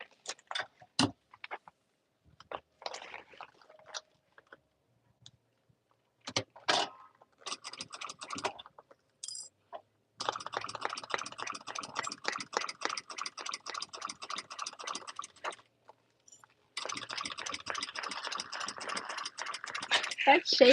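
Sewing machine stitching a stadium bag, rapid mechanical whirring in bursts separated by pauses and small handling clicks, ending in long steady runs of stitching.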